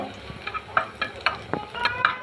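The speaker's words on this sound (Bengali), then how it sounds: "আদাটা একটু ভেজে নিব এখন আদাটা কিন্তু আমার বাদে হয়ে যাচ্ছে একটু লাল করে নিব" Chopped ginger fries in hot oil in a pan. A quiet background sizzle is broken by short scraping and stirring clicks that come every fraction of a second.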